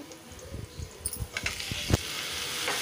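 Onion pieces fry in hot oil just after mustard seeds have spluttered, giving a close, crackling sizzle with scattered pops and stirring clatter over a steady hiss.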